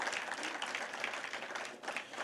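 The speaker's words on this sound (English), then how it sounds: "Let's give Andrew another round of applause." An audience applauds a speaker named Andrew at a small business and economic development summit, a steady, fairly faint wash of clapping from a crowd that carries on without a break and fades slightly near the end.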